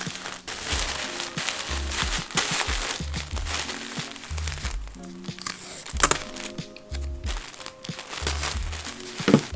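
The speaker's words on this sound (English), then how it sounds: "make sure that all of the edges are wrapped up nicely and that the shirt is securely inside the tissue paper" A shirt is folded into recycled tissue paper and sealed with washi tape, giving close, continuous crinkling and crumpling with sharper crackles throughout, over faint background music.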